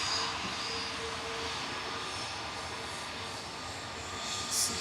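A British Airways Airbus A320neo jet departs Manchester Airport, its engine noise a steady, moderately loud broadband roar that holds for the whole stretch and swells slightly near the end.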